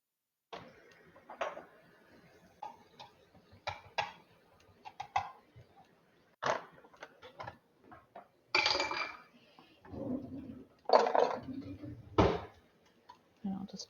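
Swerve brown sugar substitute is packed into a measuring cup and leveled off, making close, quiet taps, scrapes and light clinks in short bursts, with speech between them.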